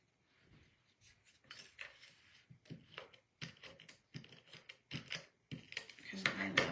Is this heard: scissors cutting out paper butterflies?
yes